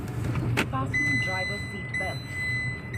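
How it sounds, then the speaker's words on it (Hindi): A Toyota Glanza hatchback cruising smoothly in second gear: a low, steady cabin rumble runs throughout beneath a person talking, with a thin, sustained electronic tone joining partway through. "ये रहा सेकंड गियर में मैं इसको लेके जा रहा हूँ, और बहुत ही स्मूथली ये चल रही है।"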